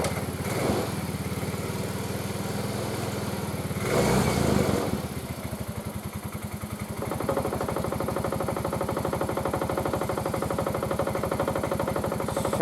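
A Yamaha Mio M3 scooter engine starts after a short burst and settles into a steady, close idle with a fast even putter, slightly louder in the middle then holding constant.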